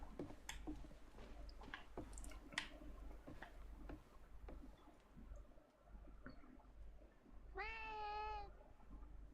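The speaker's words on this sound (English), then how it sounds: "But it was one of my cats." A domestic cat gives a single clear meow near the end, loud and close, after a stretch of quiet room noise with scattered ticks and clicks.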